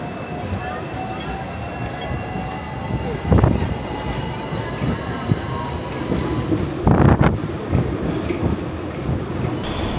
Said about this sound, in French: Moi je vais prendre un petit tram qui va m'emmener tout en haut là-bas de la colline